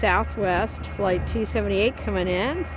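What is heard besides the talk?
None of the usual background noises is heard.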